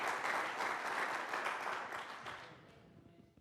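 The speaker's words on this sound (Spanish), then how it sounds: "dele un fuerte aplauso al Señor." A church congregation breaks into loud, dense applause that holds steady for a few seconds and then fades away.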